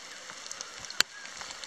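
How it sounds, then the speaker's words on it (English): Steady light drizzle falls on wet sand and puddles, a soft diffuse patter with scattered tiny drop ticks and one sharper tap, quiet and continuous. "we've had constant drizzly rain since last night"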